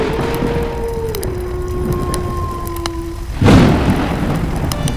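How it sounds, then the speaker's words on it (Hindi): Heavy rain pours steadily and loudly, and a sudden crack of thunder bursts in near the three-and-a-half-second mark before the downpour carries on, with a faint tonal hum running underneath. "बारिश फिर आई, पर अब डर नहीं था तेज बारिश।"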